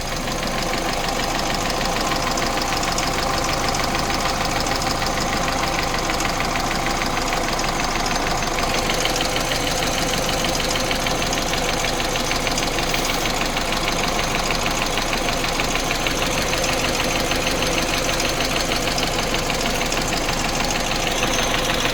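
A Peugeot 207cc engine idles steadily for the whole stretch with the manifold heating up, giving a close, even, continuous rumble with a light knocking texture and no talk.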